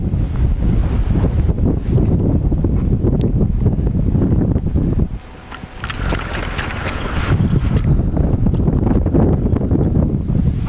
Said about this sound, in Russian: ветер большой